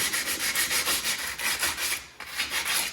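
Truck brake surfaces on a 2004–2008 Ford F150 Lariat Crew Cab being cleaned and prepped give a loud, close, steady rhythmic scrubbing rasp with short repeated strokes and a brief pause near the end.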